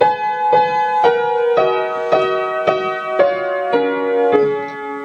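Slow piano melody from a piece from Twilight played one note at a time, each struck note ringing out with sustained harmonics, about ten evenly spaced notes, close and clear with no talking.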